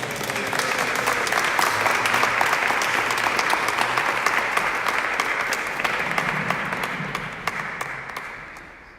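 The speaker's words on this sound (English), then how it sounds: "give him some applause" Sustained applause fills a summit hall as a speaker is welcomed back, a dense wash of many hands clapping loudly for several seconds before gradually tapering off.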